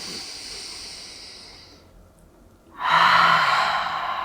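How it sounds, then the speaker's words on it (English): A deep yoga breath: a long, soft exhale trails off, a brief pause follows, then a strong, close breath in and release, with no talking. "Last one, big old breath."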